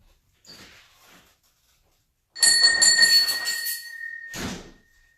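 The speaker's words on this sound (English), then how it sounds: "I just rang the doorbell, our dinner bell" A household doorbell rung to call people to dinner sounds a bright ringing chime that lingers for about two seconds, close and clear, with a few quiet thumps before it.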